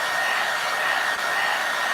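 A hair dryer runs steadily at close range, drying crackle medium on a small paper craft project, with a constant whirring airflow and a faint high whine throughout, with a brief dip near the middle.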